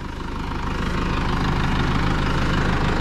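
A New Holland 4040F tractor engine idles close by, its steady low knocking rumble loud and continuous, with the engine running hot and overheating.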